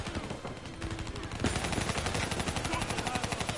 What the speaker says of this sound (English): I am shooting everyone, and they won't just die!